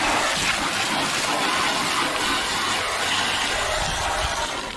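Water rinses a 15-year-old car headlight during cleaning, a steady, loud gushing flow that runs without a break from start to finish.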